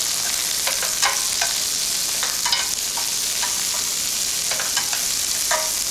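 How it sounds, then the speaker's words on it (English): Onions sizzle steadily in a hot pan for a beef shin casserole, a loud close frying hiss broken by scraping stirs of a utensil moving them around, with no voices. "we just want the onions to cook nice and slowly, not get too much colour. So we'll just load those in. Just give them a move around."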